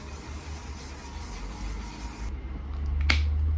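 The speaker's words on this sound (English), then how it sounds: "If you see this spray, well, it is an aerosol" An aerosol makeup setting spray (Fix It) hisses steadily for about two seconds at close range and then stops abruptly, followed by a single sharp click.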